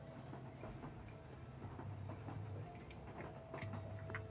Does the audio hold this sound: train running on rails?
yes